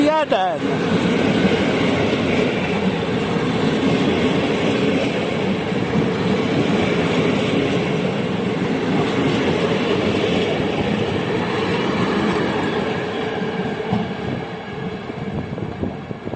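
A regional passenger train from Szczecin Główny to Kołobrzeg rumbles and clatters on the rails as it pulls into a station in Poland, a loud continuous roll that eases slightly toward the end.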